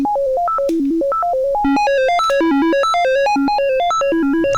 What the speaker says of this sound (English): There's the trapezoid. So it does have a more unique sound to it.